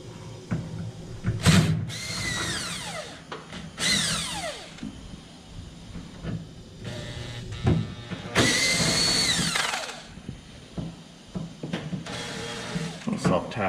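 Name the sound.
power drill driving self-tapping tech screws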